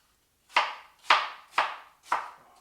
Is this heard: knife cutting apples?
yes